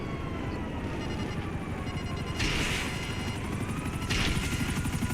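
A helicopter in GTA 5 Online makes a constant throbbing rotor drone with a whining engine tone, joined by siren-like swells and bursts of game noise in a dense, loud mix.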